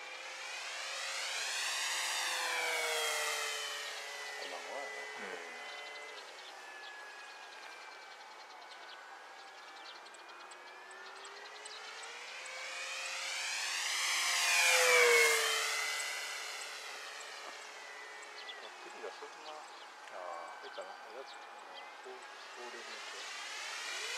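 An FMS Kawasaki Ki-61 Tony RC model warplane makes full-throttle low passes, its high whining engine rising and falling as it sweeps in and away twice, loudest overhead, with people talking faintly.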